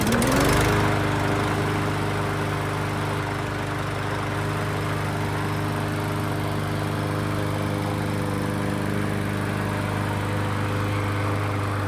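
Troy Bilt TB110 lawn mower engine catching at the start, then settling into a steady, loud, continuous running drone close by with no talk.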